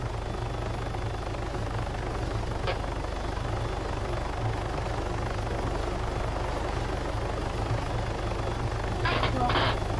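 A helicopter's rotor drones steadily throughout in ArmA 3 gameplay, loud and constant, with a few brief clicks and bursts on top.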